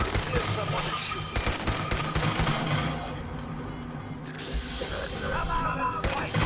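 Gunfire in Fallout 4, bursts of automatic and single shots crackling close amid game noise, with voices talking at points.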